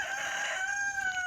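A rooster crows once along a rural county road near a creek, a loud, close, drawn-out call that trails off.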